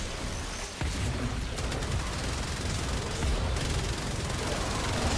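Repeated mortar fire from the Caliban in the Warframe video game, a dense, continuous barrage of booming blasts and bursts that stays loud and steady throughout, with no talking.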